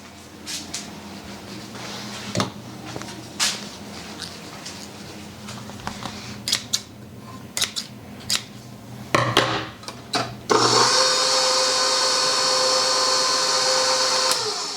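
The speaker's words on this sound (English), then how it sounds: "at this point I am going to cut these into, maybe a foot long?" Homemade egg noodle dough is cut into strips on a work surface with a series of irregular, close knife taps and thuds. A steady mechanical whir then starts and continues to the end.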